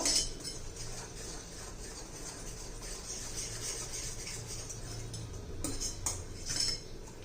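A spoon clinks and scrapes softly against a bowl while stirring coffee cake batter thinned with a little milk, with quiet, irregular taps throughout.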